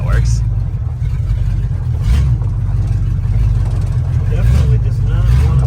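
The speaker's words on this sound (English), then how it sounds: "Definitely does not want to idle." A 1977 Dodge D100 pickup with a swapped-in small block V8 runs rough and won't idle smoothly, its uneven low rumble loud and continuous throughout, with people talking nearby.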